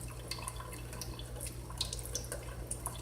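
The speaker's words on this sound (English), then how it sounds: "I'm going to let the water kind of flow on this edge here" Tap water flows over the edge of a hard boiled egg held under the faucet, a steady, fairly soft trickle with small splashes and drips close by, and no voices.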